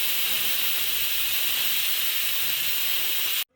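A pressure cooker on the stove hisses out a loud, steady jet of steam while cooking young mutton, holding constant for about three and a half seconds before cutting off abruptly.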